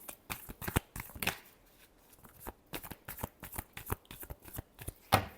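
Tarot cards being shuffled by hand in quick, crisp riffling bursts, close and fairly quiet, with short pauses between runs and no talking.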